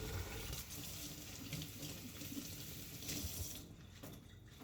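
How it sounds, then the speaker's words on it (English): Hands being washed under a running kitchen sink tap during cooking prep, a steady continuous splash of water that thins out slightly toward the end. "And I frequently wash my hands."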